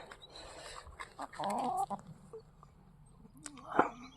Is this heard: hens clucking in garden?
yes